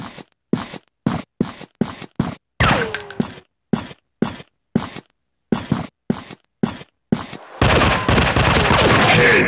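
Rapid bursts of gunfire from a zombie shooting video game, short sharp volleys separated by brief silences, then a denser sustained barrage with rattling and shattering debris at the end.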